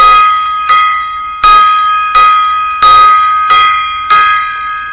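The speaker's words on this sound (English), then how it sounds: "we give him a five bell salute" A bell rung as a five-bell memorial salute: loud, evenly spaced strikes about every 0.7 seconds, each tone ringing on and fading slightly before the next, with no talking.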